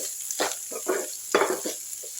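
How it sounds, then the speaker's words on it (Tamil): Onions sautéing in a pan give soft, close scraping and sizzling swishes as they are stirred, a few irregular strokes over a low, steady hiss. "வெங்காயம் போட்டுடலாம். வதக்கி விட்டுருங்க."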